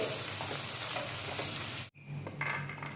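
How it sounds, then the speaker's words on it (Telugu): Green beans sizzle steadily in a hot pan, then the sound briefly drops out and resumes quieter, with a few spatula scrapes stirring them. "ఈ బీన్స్ మధ్య మధ్యలో కలుపుకుంటూ ఫ్రై చేసుకోవాలండి"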